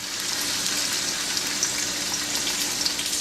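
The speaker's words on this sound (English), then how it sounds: "We are now going to brown our pork in a tablespoon of hot oil." Pork browning in a tablespoon of hot oil for chipotle pulled pork, a close, steady hiss of sizzling fat that stays even and moderately loud over a few seconds, no voices.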